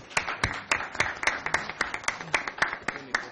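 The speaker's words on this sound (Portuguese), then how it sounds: "Eu aplaudo vocês." Applause at a Brazilian legislative hearing, a handful of distinct claps in a loose, fairly regular rhythm, close and clear with no other sounds.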